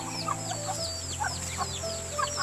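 Hungry chickens at a hillside hut cluck and chirp in quick, overlapping calls over a steady background hum, fairly close, without voices.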